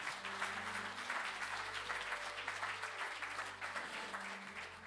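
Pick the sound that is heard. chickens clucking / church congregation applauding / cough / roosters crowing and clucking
church congregation applauding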